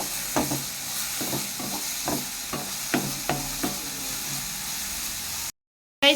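A spice mixture for fish pollichathu is stirred in a hot pan, giving about eight rhythmic scraping strokes over a soft sizzle. The sound cuts to brief silence at the end.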